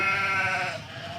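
Goats bleating in a herd, a wavering, harmonic bleat held for about a second over low background rumble, then fading.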